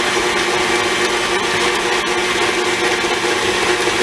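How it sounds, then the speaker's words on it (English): An electric mixer creams butter, sugar and salt together for a pecan pie, a loud, steady motor whir that runs without pause throughout. "what I'm doing now is creaming the butter, sugar, and salt together"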